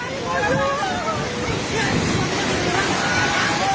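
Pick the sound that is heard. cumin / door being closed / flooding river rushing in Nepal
flooding river rushing in Nepal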